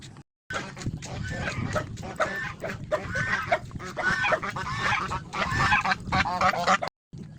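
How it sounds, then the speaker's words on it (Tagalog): A flock of geese honks repeatedly and close by along a path in Mangatarem, Pangasinan, Philippines, overlapping calls filling the scene with a few brief gaps. "Naku, may mga gansa pa."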